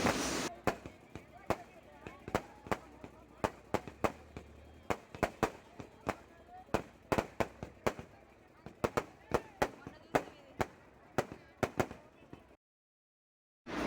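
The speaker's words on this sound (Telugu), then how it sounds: "ఇక్కడైతే క్రాకర్స్ అయితే పెట్టారు సౌండ్స్ అయితే మామూలుగా రాలేదు" Firecrackers burst at a night goddess festival procession in a village, a rapid irregular string of sharp loud cracks over a couple dozen pops, with crowd voices underneath.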